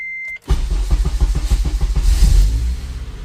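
An 8th-generation Honda Civic engine cranks with a rapid chugging rhythm, catches and settles into a steady, smooth running rumble, loud and close with no talk over it.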